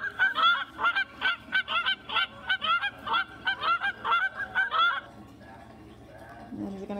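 Goose calls play back from a device as a rapid run of loud, evenly spaced honks for about five seconds. The honks then stop abruptly and are followed by a faint low sound.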